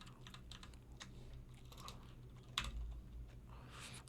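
Computer keyboard typing while writing Python code for a CustomTkinter app, a steady run of light clicks and taps over a low background hum, close and moderately quiet, with no speech.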